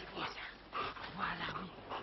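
An avalanche rescue dog in the snow gives a few short, high whimpers and yips, fairly close, with some muffled background noise around it.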